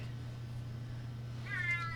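A cat gives one short complaining meow near the end, faint against a steady low electrical hum.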